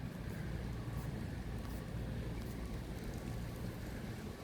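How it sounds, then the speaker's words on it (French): Steady rain falls over a harbour with small boats at Sanary-sur-Mer, a dense, even hiss that holds constant throughout with no voices. "il pleut de plus en plus"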